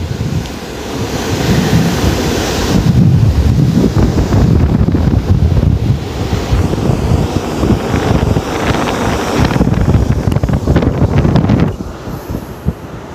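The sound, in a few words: container ship's bulbous bow breaking waves, wind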